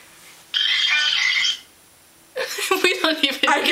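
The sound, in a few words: phone ringtone made of animal sounds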